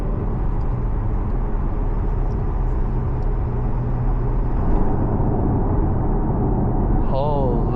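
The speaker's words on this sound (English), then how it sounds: "The induction noise sounds so nice because the engine is right behind you." A rear-engined Porsche drives along, its engine and induction noise a steady low drone heard from inside the cabin, with a faint squeal near the end.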